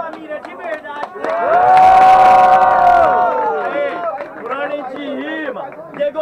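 At a Portuguese-language student rap battle, a crowd swells into loud cheering and shouting that peaks and fades over a few seconds, with voices talking over it before and after.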